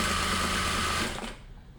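A sewing machine stitches along the edge of kameez fabric in a steady, loud, close run that cuts out after about a second and a quarter, leaving only quiet room noise.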